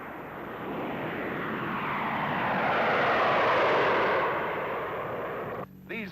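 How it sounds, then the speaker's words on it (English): A B-36 and a B-47 bomber flying overhead during a 1952 nuclear weapons test: a steady, broad roar of aircraft engines that swells toward the middle and fades slightly, with a brief interruption near the end. "a B-36 and a B-47 will be in the air"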